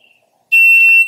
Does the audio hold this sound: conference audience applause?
no